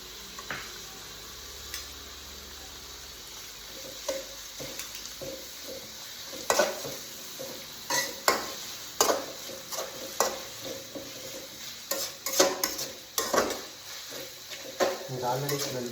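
A spoonful of ginger garlic paste fries in a pan with a soft, continuous sizzle, broken by frequent uneven scrapes and clinks of a spoon stirring it up close.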